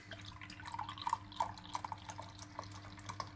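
A 4.2% traditional best bitter from a 500ml Orme bottle pours into a glass, a faint steady trickle with small drips and splashes for about three seconds, no voices.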